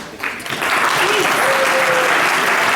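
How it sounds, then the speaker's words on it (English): Audience breaks into applause at a JCI conference as the 2015 President is called on stage, clapping swelling quickly and holding dense and steady, with a voice briefly heard over it. "give a big round of applause to our 2015 President"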